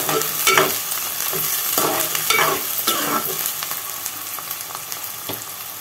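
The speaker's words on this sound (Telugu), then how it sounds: "నూనె వేడెక్కింది. ఉల్లిగడ్డలు, పచ్చిమిరపకాయలు కలుపుకోవాలి ఒకసారి." Onions and green chillies stirred into hot oil already holding cinnamon stick and bay leaf for a country chicken curry, with steady sizzling frying and repeated scraping spoon strokes against the pan, fairly loud throughout.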